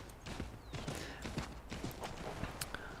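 A horse gallops in Assassin's Creed III Remastered, with quick rhythmic hoof clip-clops, creaking tack and light mechanical noise. The sound is steady and moderately close, with no talking over it.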